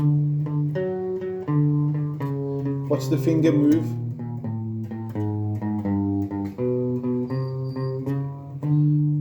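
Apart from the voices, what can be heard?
guitar passage played slowly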